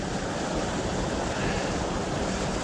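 A small mountain river in Slovakia, swollen by rain, rushing in a continuous, dense broadband roar close to the microphone, steady throughout without pauses or voices.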